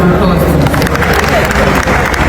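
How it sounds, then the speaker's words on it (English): An audience at an International Women's Day event gives a round of applause for an actress, the dense clapping loud and steady throughout with voices mixed into the crowd noise. "can we give her a round of applause?"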